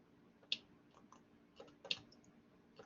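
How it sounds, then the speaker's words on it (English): A computer mouse clicked during a mechanical engineering lecture, a few faint, sharp plastic clicks spaced across a quiet room with low background hum and no talk. "Double click on it"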